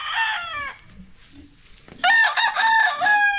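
A rooster crows loudly and close by, twice, with a quieter pause between the calls and faint farmyard noise underneath.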